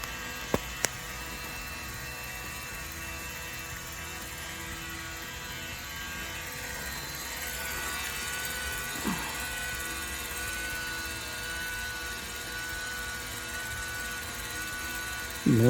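Motor of a Hot Toys The Bat 1/12 deluxe remote-control toy vehicle, a steady faint whirring hum with a buzzy tone that holds evenly throughout, with no voices over it.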